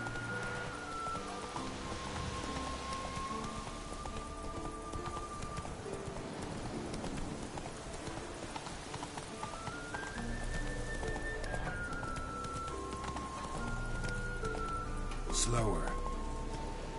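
Hooves of Roach, the horse in The Witcher 3, clip-clop steadily in-game beneath a bed of sustained music, with rain-like patter and a brief rising effect near the end.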